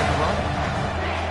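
A home crowd at a football game roars as the defense tries to get off the field on third down. The dense, steady noise continues throughout under a commentator's voice.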